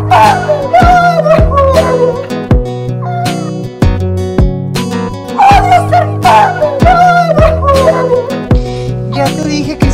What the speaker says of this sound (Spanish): ¡Ay, este perro! ¡No!